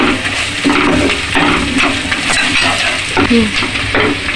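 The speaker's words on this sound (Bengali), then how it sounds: "ধনের গুঁড়ো লঙ্কার গুঁড়ো হলুদ দিয়ে কিছু সুন্দরে নাড়ব" Coriander, chili and turmeric powders are stirred in a hot pan: a loud, close sizzle broken by repeated scraping strokes and small bursts as the spoon moves.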